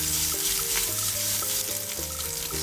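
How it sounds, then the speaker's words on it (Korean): Crushed Spam sizzles and crackles steadily in oil in a hot pan over medium heat, a continuous close frying hiss with no talking. "중불로 달군 팬에 식용유 2바퀴를 두르고 으깬 스팸을 넣어 튀기듯이 볶아줍니다"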